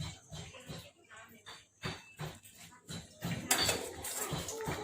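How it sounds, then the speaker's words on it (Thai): Pork blood soup is ladled from a pot into a bowl, with soft, irregular clinks and scrapes of the ladle against metal, fairly quiet and close. "จะตักน้ำซุปใส่นะคะ"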